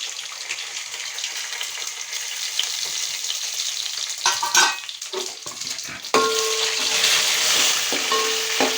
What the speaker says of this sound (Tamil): கடுகு எல்லாம் வெடிச்சிச்சு